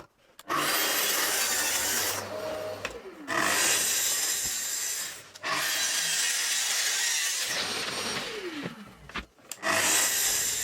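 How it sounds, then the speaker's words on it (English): A handsaw cuts strips from a 12mm plywood sheet in three long bursts of rasping strokes, each stroke run a couple of seconds long with short pauses between, close and loud with no talk. "then cutting 4 identical strips"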